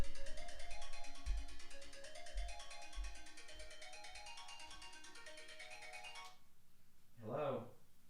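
A melodic electronic phone ringtone plays for about six seconds in repeating tonal bursts, fairly clear with low thumps beneath. It cuts off and a voice follows briefly.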